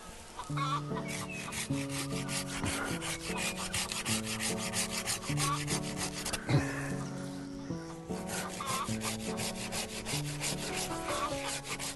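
A small tree in a food forest is sawn down by hand: repeated rhythmic rasping back-and-forth strokes, close and fairly quiet, with a brief crack near the middle and a rooster crowing in the background.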